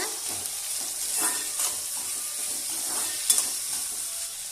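Chopped tomatoes and onions sauté in a pan for a small dried fish thokku, a steady close sizzle with occasional soft scraping stirs and a couple of faint clinks.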